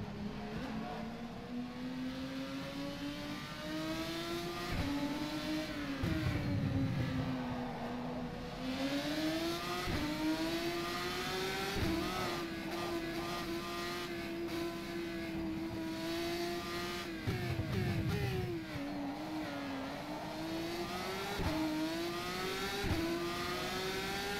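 GP3 race car engine in rFactor 2 at Adelaide, droning loudly and steadily with repeated rising and falling revs through gear changes, dipping briefly under braking and picking back up, with no talk over it.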